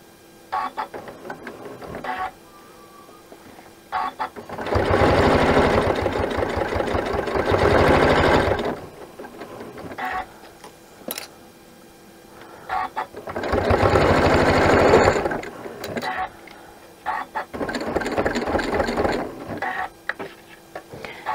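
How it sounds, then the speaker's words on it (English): An embroidery sewing machine stitching the final seam of a zippered coin purse in the hoop, running in two long, loud bursts of rapid mechanical stitching with quieter clicks and pauses between. "we're going to stitch our final seam into place"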